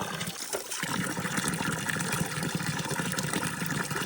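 Cold water running and splashing over dishes being washed outdoors beside a forest hut in mist and rain, a steady close trickle with light clatter and no talking.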